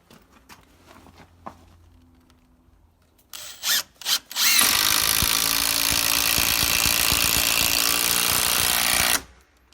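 A Makita power drill driving screws into wood, a few short trigger blips followed by one long sustained whine that stops abruptly, close and loud after quiet handling sounds.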